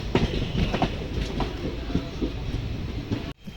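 Express passenger train on the Tirunelveli–Nagercoil route, heard from inside an unreserved coach: a steady, loud rumble with faint rhythmic clacking of wheels over rail joints, ending in an abrupt dip near the end.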